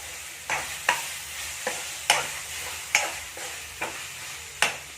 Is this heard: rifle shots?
no